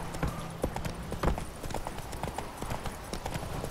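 Horse hooves clop in the Witcher 3 video game as the horse gallops, a quick, irregular series of close, distinct hoofbeats over faint background ambience.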